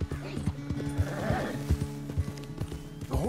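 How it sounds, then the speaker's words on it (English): Horse hooves clopping in the video game Red Dead Redemption 2, an uneven series of close thuds at a walking pace over a low ambient bed, with brief animal vocal sounds. "The horse can feel your fear."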